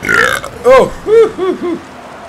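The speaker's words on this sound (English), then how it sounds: "I apologize because I know burping can be quite offensive to some of you Brits out there" A person makes a loud, close burp, followed by a series of croaky, warbling belches in uneven bursts, each one a bit weaker than the last.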